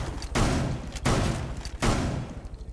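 Shotgun blasts in Rainbow Six Siege, three heavy booming shots spaced under a second apart, each with a decaying tail, moderately loud with no voices.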